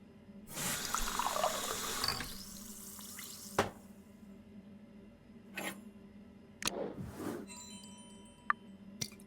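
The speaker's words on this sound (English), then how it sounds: "Now to fill it up with water and drop one of the tablets in." Water pours from a tap into a glass in the video game Murder by Choice, a couple of seconds of running fill followed by scattered drips and small clinks, close and alone.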